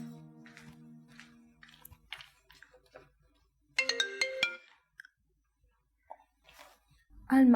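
A mobile phone ringtone plays a brief burst of bright electronic tones, with faint talk and scattered sounds around it, then quiet.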